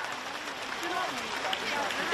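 Sustained applause from the audience at a Buddhist Dharma assembly, a steady wash of many hands clapping with a voice speaking over it.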